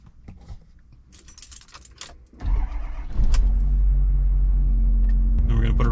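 A 2011 BMW X3 (F25) is started: quiet clicks and a key jingle, then the starter cranks and the engine catches, settling into a loud, steady idle close by.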